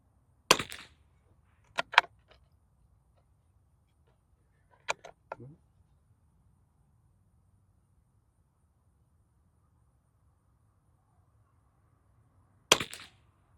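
Walther .22 LR rifle fired for a five-shot group at an outdoor range, several sharp, short cracks at irregular intervals with a long pause before the last, each crack fading quickly into quiet.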